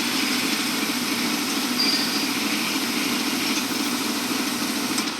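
A farm tractor engine idles steadily and fairly loud while raking first-crop alfalfa, a constant low rumble with a faint high whine on top and no talk.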